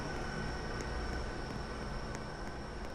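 An express train in the Stepford County Railway video game runs with a steady, loud rumble and hiss and a high whine held throughout, with faint periodic clicks.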